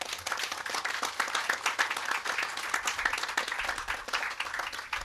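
An audience at a greenhouse handover ceremony in Mexico gives a round of applause, with dense, steady clapping throughout, fairly close and moderately loud, and no talking.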